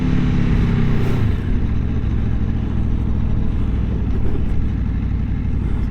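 A 2023 Aprilia Tuono V4 Factory motorcycle with an 1100 V4 engine accelerates on the road, a loud, steady close engine roar with a pitch shift early on, continuous beneath wind noise.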